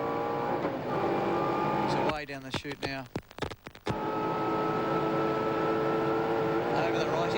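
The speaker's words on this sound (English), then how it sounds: "You can hear the gears screaming." Allan Grice's race car at Bathurst in 1990 howls at high revs, its engine and gears screaming loudly, then dropping through a burst of sharp rapid shifts before surging again, with a commentator's voice over it.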